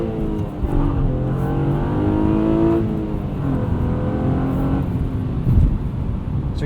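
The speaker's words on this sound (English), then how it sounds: "So you pretty much spun through first gear, chirped second" A 2016 Honda Accord V6 coupe with a six-speed manual launches hard in cold 17-degree weather, the engine revving loudly and steadily close by as it spins its tires through first gear and chirps into second.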